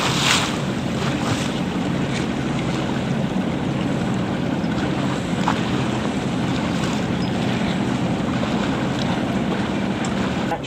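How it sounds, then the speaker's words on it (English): Steady rush of wind and water around a sailboat running downwind, a continuous broadband roar of wind across the microphone over the wash of waves along the hull. "Wind's lightened a little bit."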